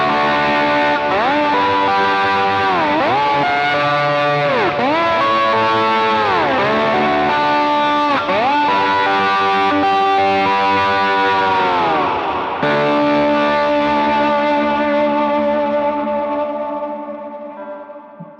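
Electric guitar plays a slide tone through a Ratatouille overdrive pedal on a Helix Stadium. Loud, distorted notes swoop up and down in repeated glides, then settle into a long sustained chord that slowly fades out.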